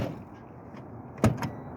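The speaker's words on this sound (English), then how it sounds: "Then I'm going to check my door that it opens and closes." A truck cab door is swung and shut during a pre-trip inspection, with soft movement followed by one sharp latch thud and a smaller knock just after, near and fairly quiet.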